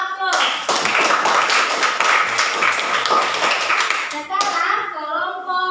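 A classroom group claps loudly and steadily for several seconds after a group's class presentation, a dense close wash of many hands that stops abruptly, then a voice speaks.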